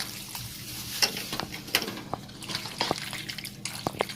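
Pasta being stirred in a pan gives repeated close scrapes and soft taps over a wet, bubbling sizzle, in an irregular rhythm, with no talking.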